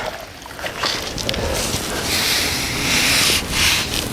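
Water swishing and splashing steadily while cement grout residue is washed off tiles, a continuous wet rushing that swells and eases, close and fairly loud.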